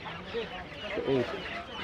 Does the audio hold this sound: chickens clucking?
yes